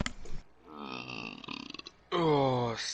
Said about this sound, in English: Oh, steak makes me burp.